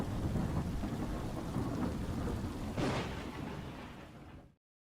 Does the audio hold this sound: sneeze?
no